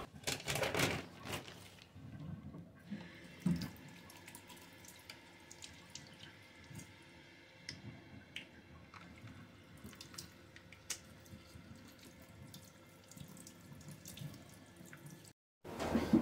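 Water runs from a shower tap while a hiker rinses debris out of a backpack, a steady splashing flow with occasional drips and knocks, stopping briefly near the end before resuming.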